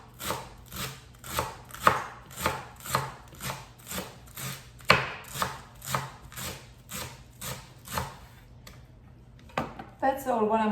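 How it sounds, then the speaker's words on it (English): Knife chopping fresh cilantro on a cutting board, about twenty crisp evenly paced strokes close up, ending with a few scraping sounds as the pile is gathered. "So we're going to chop the cilantro."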